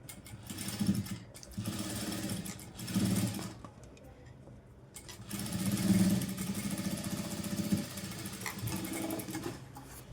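A sewing machine runs in short bursts while stitching blouse fabric, its low motor hum rising and falling with a quiet pause midway, fairly faint and close.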